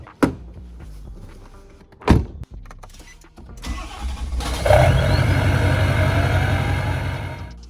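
A tuned pickup truck, a loud modified engine, cranks over after a couple of door thumps and catches, settling into a deep, steady rumbling idle close by.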